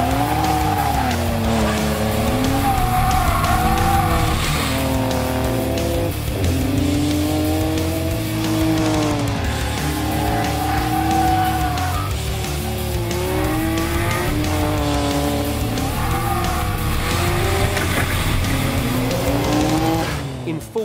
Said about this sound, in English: We got to see the car in action at the SAU SA Track Day at Malala Raceway.